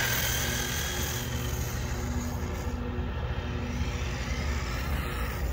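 A ZD Racing Thunder B-10E electric RC buggy running on a 3S battery in a parking lot, its steady motor whine and tire noise filling a continuous, even drone with no pauses.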